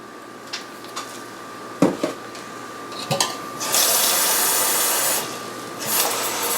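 Water pours from a tap into a blender jar with soap added for cleaning, a steady broadband rush lasting a couple of seconds after a few clicks and knocks, with no talking.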